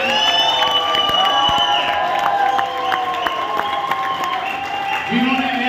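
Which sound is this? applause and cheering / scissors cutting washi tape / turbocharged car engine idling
applause and cheering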